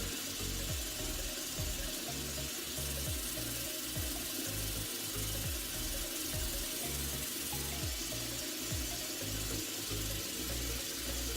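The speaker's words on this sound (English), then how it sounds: "you can see the water coming out" Water pours and splashes continuously as it leaks from a bucket, with a steady trickling rush and a faint mechanical hum in the background.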